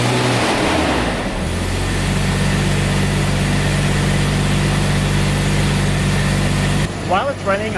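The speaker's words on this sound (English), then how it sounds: "I'm just gonna rev it a tiny bit so you can hear" Classic V12 car engine running during a storage start-up, settled into a steady low idle with a brief rise in revs early on, loud and close, with a few spoken words at the very end.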